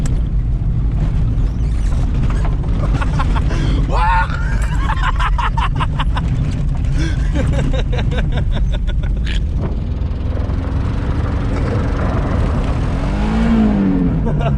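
A Renault car engine rumbles steadily and loudly throughout, with people talking over it in French and a few higher revving sounds.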